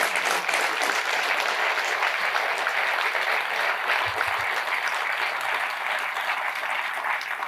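Sustained applause from a theatre audience at a gala evening for the Armenian people, dense and steady throughout with no talking.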